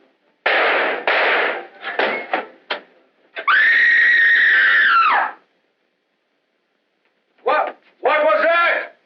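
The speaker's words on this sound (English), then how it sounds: "Who screamed?" A woman in a 1940s mystery film lets out a long, shrill scream lasting about two seconds, set between short sharp bangs and clangs, then silence before more abrupt bursts.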